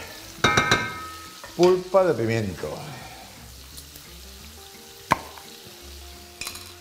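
Tomato sauce for pollo a la riojana cooks in a pan with a soft, low sizzle, broken by a few utensil clicks and taps while a voice talks over it.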